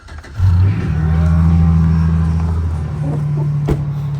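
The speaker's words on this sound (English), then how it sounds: "Start my truck." A truck engine cranks over and fires, then idles with a loud, deep rumble and a slight rev, heard up close on a winter farm, with a faint bovine-like call in the background.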